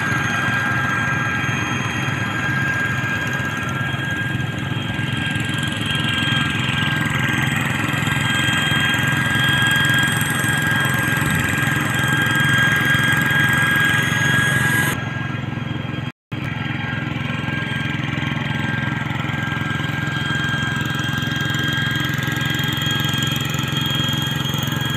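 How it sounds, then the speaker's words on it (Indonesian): Three hand tractors plow side by side with moldboard plows, including a Boxer 1S and a TL800 2S engine, their engines chugging steadily in a loud, continuous drone that briefly cuts out once. "Tiga traktor bekerja"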